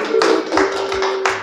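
Applause for a traditional ruler at a village meeting, with dense hand clapping sustained and fairly loud throughout, a few sharper surges standing out in the patter.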